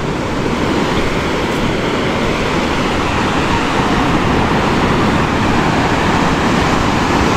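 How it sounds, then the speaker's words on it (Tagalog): Strong ocean surf breaking on a sandy beach, a steady, dense wash of waves that stays loud and unbroken throughout, with no voices. "Mas lalong lumakas yung alon ngayon kaysa kaninang umaga."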